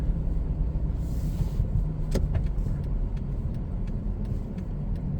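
A car drives on a snowy road in Canada, with a steady muffled engine rumble and tyre noise through the whole stretch and a few brief clicks along the way.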